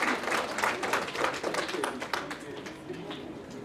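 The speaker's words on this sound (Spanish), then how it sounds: "Un aplauso para los dos simpáticos" A church congregation giving a short round of applause, moderately loud scattered clapping that tapers off over a few seconds with some murmuring underneath.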